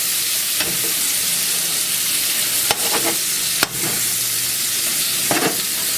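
Meat browning with onion in a pan, a steady loud sizzle throughout with a few clicks and scrapes of a utensil, close.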